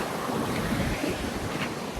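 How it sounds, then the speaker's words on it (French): Strong wind buffets a microphone at a Japanese beach, a loud, continuous roaring rush with surf mixed in and no break throughout. "Mais il y a trop de vent. Too much wind."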